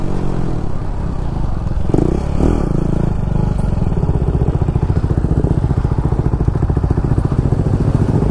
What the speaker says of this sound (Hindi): मेरा पीछे देख जिप्सी का एग्जॉस्ट तो अलग ही है गाइस